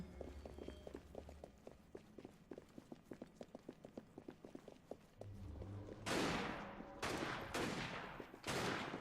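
In Assassin's Creed Syndicate, a steady run of quick footfall-like clops gives way to several loud, booming gunshot bursts spaced about a second apart near the end.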